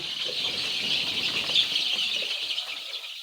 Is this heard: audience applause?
no